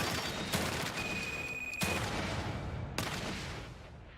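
Three sharp, loud gunshots ring out about a second apart in the horror video game The Evil Within 2, each with a short echoing tail, and no one speaks.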